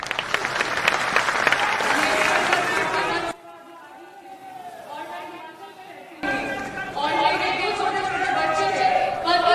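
Loud applause from the crowd at a Jan Suraaj political gathering in Bihar, mixed with voices and chatter, dips for a few seconds to quieter murmuring and cheering, then swells again.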